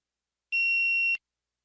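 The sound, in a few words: beep signalling start of response time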